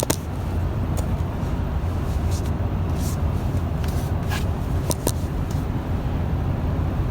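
Car driving on a road and accelerating toward 55 mph, a steady close rumble of engine and road noise with a few faint clicks and rattles inside the cabin, and no talking.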